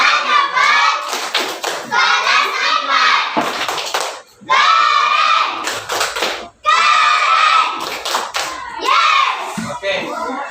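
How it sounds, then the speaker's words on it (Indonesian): Schoolchildren in a classroom clap in short rhythmic bursts, patterned group claps close by with children's voices chanting along between the clapping phrases. "Oke, tepuk tangan."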